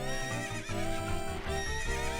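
Epona, the horse in Zelda: Ocarina of Time, whinnies in the game, a synthetic-sounding neigh with bright, stepped tones over game music, steady and close with no talking.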